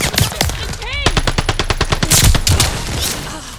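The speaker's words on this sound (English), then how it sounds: "And it's a mortar barrage." A Call of Duty: Vanguard mortar barrage lands as a rapid string of loud, close explosive impacts that pound in quick succession for several seconds. A voice is briefly heard.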